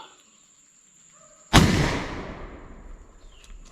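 A single loud gunshot from a 1F black powder load fired over a chronograph cracks sharply after a quiet lead-in, then rings out in a long decaying echo.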